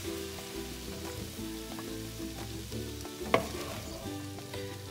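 Prawns stir-fry in a pan with a steady, quiet sizzle, broken by a single utensil clink partway through.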